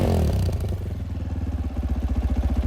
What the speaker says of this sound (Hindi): अब थोड़ा सा रेव अप करते हैं इसे